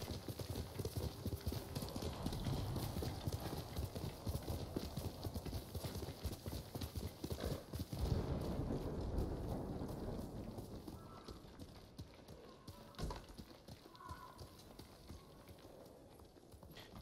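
Steady hoofbeats of a horse galloping in the video game Ghost of Tsushima, a fast continuous clip-clop that eases off toward the end, with faint rain-like texture in the background.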